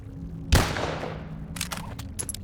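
The single-shot gun in the VR game Bonelab fires once as a sharp, loud blast with a decaying tail, then fainter clattering and rustling follows as the weapon flies from the hand.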